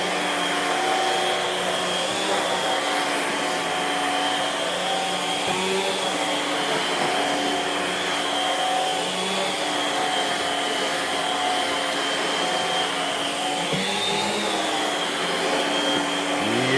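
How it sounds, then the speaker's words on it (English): A homemade central vacuum cleaner runs continuously while sucking up dirt, a loud steady whooshing whine with slight pitch shifts as the nozzle moves over the ground, close and alone. "it's vacuuming up pretty good. We're using the Oryx Stinger here."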